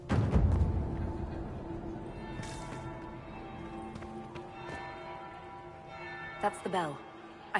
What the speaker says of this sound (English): That's the bell. I should get back to the ballroom.